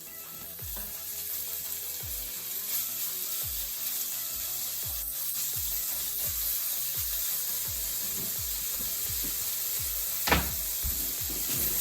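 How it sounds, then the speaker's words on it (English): Continuous crackling sizzle of bacon frying in a cast iron skillet, with soft scraping and a few clicks, no talking. "You want to hear a sizzling sound once you put the bacon in the pot."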